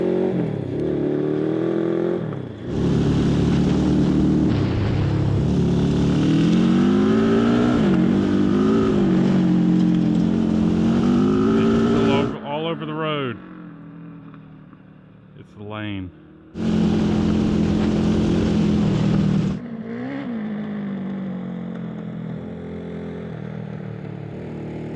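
A Little Tikes go kart drives at speed with a loud, steady motor drone that rises and surges. It cuts out briefly in the middle, then returns, and people talk over it.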